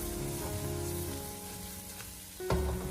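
Garlic prawns stir-fried with chopped scallions over low heat sizzle steadily in the pan, with a louder clatter of the spatula against the wok toward the end.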